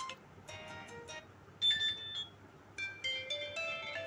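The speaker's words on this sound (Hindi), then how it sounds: "उसके बाद आप यहाँ बहुत सारे रिंगटोन देख रहे हैं, आप कोई भी लगा सकते हैं, जो आपको अच्छी लगे आप चलाकर देख लेंगे" A ringtone plays on a Realme 5i phone: a bright melodic sequence of electronic tones in short repeating phrases, clear and fairly close, with no talking.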